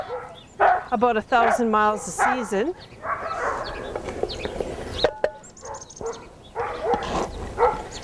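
Purebred Siberian sled dogs yip, bark and whine excitedly at feeding time, several voices close and overlapping, with someone talking intermittently beneath the chorus.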